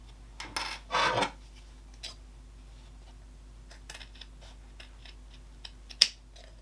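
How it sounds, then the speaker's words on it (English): Scissors make a short, close snip through folded felt, cutting off a corner. A brief rustle comes first and a sharp click follows in an otherwise quiet room. "I'm going to snip off that corner from the folded edge to that 1 inch mark."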